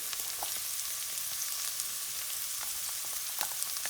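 Garlic and smoked paprika sizzle steadily in a hot pan, a close continuous crackle with scattered pops and light scraping as the mixture is stirred around.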